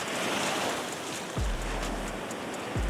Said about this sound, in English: As they crash ashore, each colossal wave breaks with an unstoppable force